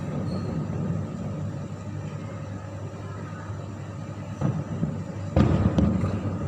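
Fireworks over the National Bay in Phnom Penh, a continuous distant rumble of crowd and traffic with a few sharp bursts and cracks rising near the end, no clear talk.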